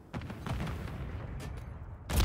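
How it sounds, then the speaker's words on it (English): A Call of Duty MW3 ranked search-and-destroy match: a burst of gunfire and a grenade blast crackle together near the listener, dropping briefly before another loud burst hits at the very end. "Oh my god, he's got hit with a grenade."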